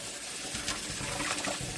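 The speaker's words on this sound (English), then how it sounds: "I like to pour vinegar into the water and to just make sure that it is all cleaned up." Vinegar poured into a bowl of water for cleaning chicken feet, a short close liquid splashing and trickling with a few brighter splashes, no talking.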